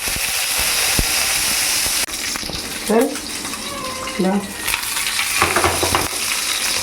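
Urad dal crackles and fizzes in hot oil in a kitchen pan, a steady close-up sizzle with stirring clinks and brief voices over it.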